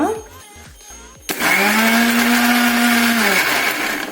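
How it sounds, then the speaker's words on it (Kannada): An electric mixer grinder blending soaked tamarind with coriander into chutney starts abruptly after a quiet moment, then whirs loud and steady for a few seconds before winding down. "ಇದನ್ನ ಮಿಕ್ಸಿ ಮಾಡ್ಕೊಂಡು ಬಂದಾಗ"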